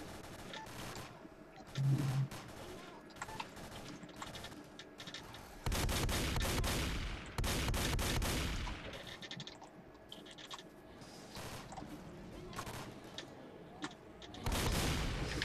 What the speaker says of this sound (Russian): Благо у нас есть такая вот бандурина хорошая, которая очень хорошо стреляет.